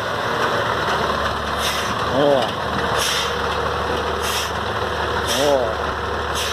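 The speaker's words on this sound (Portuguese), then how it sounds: "Caminhão aí, ó." A turbocharged truck engine idles steadily nearby at a construction site for retaining walls, a continuous low rumble running throughout beneath a man's brief spoken remarks.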